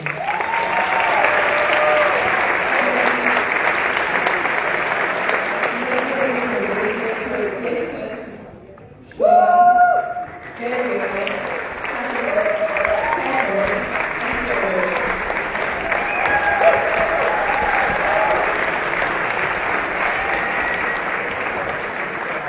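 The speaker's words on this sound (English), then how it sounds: "just put your hands together and give them a warm round of applause" A business conference audience gives a long, warm round of applause welcoming student presenters, sustained dense clapping with a short dip partway and a voice briefly speaking over it.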